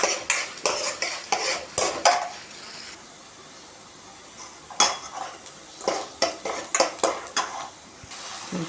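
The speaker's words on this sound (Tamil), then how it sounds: "வெங்காயத்தை நல்லா வதக்கிக்கோங்க." Onions sautéing for a brinjal kara kuzhambu, a spoon scraping and stirring around the pan in quick clattering bursts, with a pause midway before the rhythmic stirring resumes, close and fairly loud.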